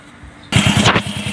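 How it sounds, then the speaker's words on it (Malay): A motorcycle engine starts after a new original magneto is fitted, catching abruptly and settling into a loud, steady, pulsing idle close by. "enjin pun dah hidup"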